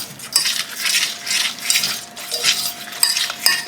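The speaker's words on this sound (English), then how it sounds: "I'm going to keep adding and stirring until it's all gone and nice and smooth" A utensil stirs white sauce in a pan, scraping and clinking against the metal in repeated rhythmic strokes, with a few sharper taps near the end and no speech.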